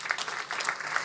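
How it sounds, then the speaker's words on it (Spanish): Congregation applauding during a church sermon, a brief, fairly faint burst of clapping. "Denle un fuerte aplauso al Señor."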